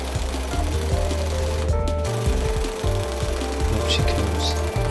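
A pneumatic impact wrench works on the front wheel hub of a Toyota JZS160/JZS161 GS300 Aristo, producing a loud, continuous close-up hammering rattle with a brief pause partway through, plus some shop noise.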